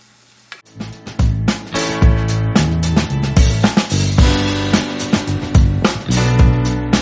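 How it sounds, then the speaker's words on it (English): Taco meat for nachos sizzles in a skillet while a utensil scrapes and clacks against the pan in frequent stirring strokes, all close and steady. "Let it cook for another minute or two to get the flavors permeating into the meat, stirring occasionally."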